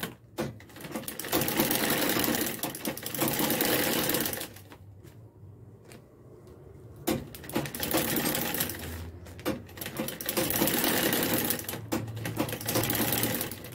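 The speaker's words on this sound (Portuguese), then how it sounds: "Michelle, eu quero ver você costurando." Homemade sewing machine stitching strips of plastic bag for a rag rug, a fast steady mechanical whir in long runs broken by short pauses and clicks, close and loud.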